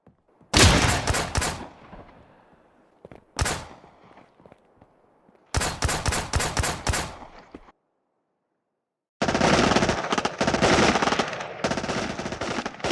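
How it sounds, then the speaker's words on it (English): Bursts of rapid automatic gunfire in the video game Miscreated crack in several long volleys separated by short pauses, loud and close, with a few single shots between. "I was disturbed by gunfire"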